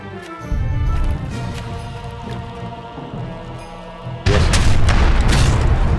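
A fire ship is destroyed in battle in Age of Empires III: a heavy boom crashes in, a steady rumble of wreckage and noise follows, and a second loud burst lands near the end.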